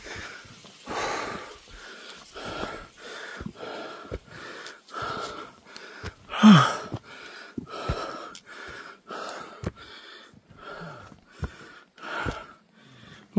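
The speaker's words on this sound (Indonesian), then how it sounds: "ngos-ngosan ini udah lama gak nge-trip" Heavy, rhythmic panting from someone hiking uphill on a forest trail in Garut, West Java, with repeated loud breaths in and out close to the mic and no talking.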